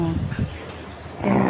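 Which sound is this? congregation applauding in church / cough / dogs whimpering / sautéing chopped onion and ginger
dogs whimpering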